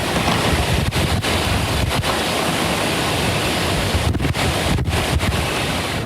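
Hurricane Michael's winds roar across a flooded coastal area, a loud, constant buffeting blast battering the microphone with only a few brief dips, no voices on top.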